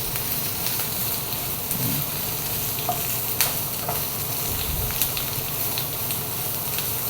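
Onions and curry leaves frying in hot oil give a steady, close sizzle and crackle with faint pops, continuous throughout and with no voices.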